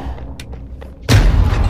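After a few faint ticks, a helicopter explodes in a Call of Duty game with a sudden loud boom that rumbles heavily through the rest of the moment.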